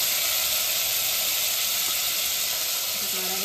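Cumin seeds crackle in hot oil as a dense, loud, continuous sizzling hiss throughout, with no pause.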